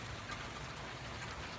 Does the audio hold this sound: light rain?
yes